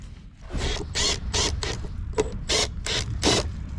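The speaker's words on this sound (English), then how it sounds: "Always secure down the other screw." Screwdriver tightening a screw inside a home electrical panel during an inspection, heard as about eight rhythmic ratcheting clicks in quick succession, close and fairly clear, with no talk.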